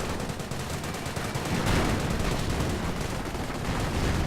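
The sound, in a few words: gunfire and combat in a war strategy video game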